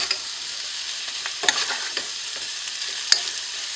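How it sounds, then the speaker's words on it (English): Diced home-fry potatoes and onions crackle and hiss in a hot pan, a steady close sizzle broken by a few sharp spatula scrapes and taps as they are stirred. "once your onions are fully cooked and you maybe get a little bit of browning in there, you're pretty much done with those"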